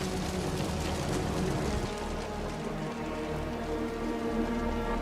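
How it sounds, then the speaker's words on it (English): Heavy rain in the Wuthering Waves video game, a dense, steady hiss of drops falling on surfaces that goes on unbroken at a strong, even level. "The rain's getting heavy."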